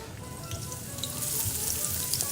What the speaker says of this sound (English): So we start the garlic up in the olive oil